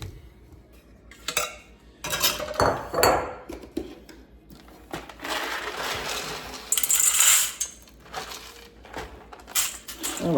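Dry beans, a couple of handfuls, being rinsed in a bowl while preparing refried beans, rattling and clattering in bursts of hard little hits and swishes, close and fairly loud, with no talking.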